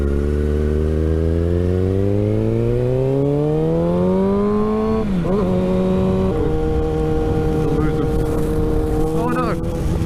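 A sportsbike motorcycle engine runs close by, its revs climbing smoothly for several seconds before dropping to an uneven, sputtering idle as if close to stalling.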